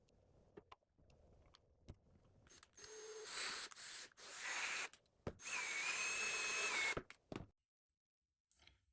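A power drill bores through printed holes in a 3D-printed gripper part to make 3.2 mm guide rail holes, with short whirring bursts and a longer high-pitched grind amid clicks and handling, close and moderately loud.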